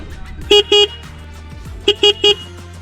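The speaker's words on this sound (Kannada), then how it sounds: "ಈ ಗಾಡಿ ಹಾರ್ನ್ ಕೇಳಿಸ್ಕೊಳ್ಳಿ ಯಾವ ಥರ ಇದೆ ಅಂತ" Two pairs then a triple of short, bright horn toots from a 2024 Suzuki Hayabusa motorcycle, each blast sharp and close, separated by brief gaps, with no talk over them.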